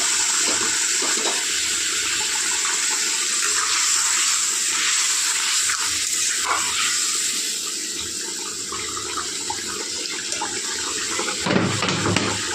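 Water pours steadily into a pan of papaya, potato and fish curry, a continuous rushing splash that holds for about twelve seconds with a brief clatter near the end.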